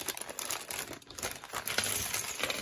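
A sealed plastic bag holding a LEGO minifigure haul crinkles continuously up close, with dense rustling bursts and no talking.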